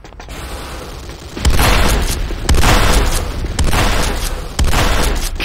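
A building explodes and collapses in the Command & Conquer Renegade video game, loud repeated booming blasts in a rhythmic series of heavy bursts, close and dominant.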